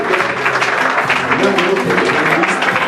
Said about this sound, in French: Je vous prie de bien vouloir les accueillir avec des ovations et des applaudissements